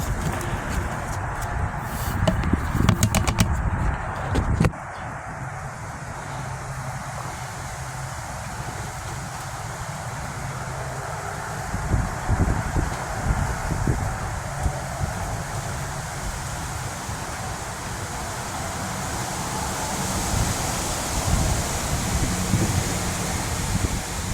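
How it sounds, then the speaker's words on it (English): Wind blows outdoors in steady gusts, rumbling against the microphone with a broad continuous rush, brief rattling bursts early on and no voices. "It's so windy today."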